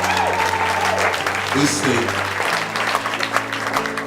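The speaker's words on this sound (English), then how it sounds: "we have to give a round of applause and accolades to Mrs." Wedding guests applaud Mrs. Sonia Brown at a 2017 wedding reception, producing a steady patter of clapping that runs beneath a speaker's voice and sustained tonal sounds.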